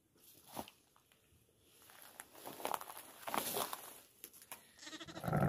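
Sheep bleat in a farm pen, where a newborn lamb about ten to fifteen minutes old stands beside its large ewe. The calls come as soft, scattered bleats and rustles of movement, close by, with no talk.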